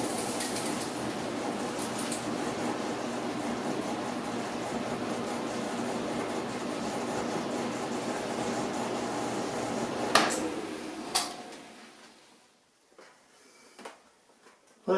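A Maytag Epic Z clothes dryer runs empty with a steady, loud broadband whir and tumble for about ten seconds, a couple of sharp clicks near the end, then it winds down to near silence with a few faint knocks.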